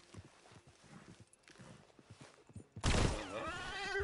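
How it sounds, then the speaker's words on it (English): A horse in the video game Red Dead Redemption 2 makes a sudden loud, close snort or whinny that bursts in after a stretch of quiet, faint background sounds. "Oh, there's a horse."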